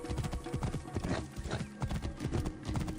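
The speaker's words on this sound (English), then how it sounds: "come here, girl. You're my good horse." Horse hooves clip-clop steadily in Assassin's Creed Origins, a brisk continuous rhythmic trot, fairly close, with game ambience behind it.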